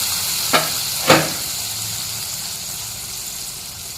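Sour water strained from hog plums (amra) is poured into a hot pan. Two brief splashing bursts are followed by a steady, soft sizzle that fades slightly. No talking is heard.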